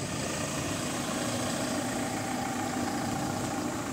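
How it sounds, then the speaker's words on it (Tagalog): A Toyota Hilux diesel engine idles in a steady, even rumble, close and moderately loud, with no voices over it. "Toyota Hilux diesel engine."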